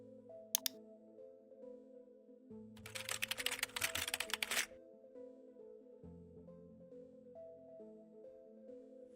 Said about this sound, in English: I will type the path to our application manually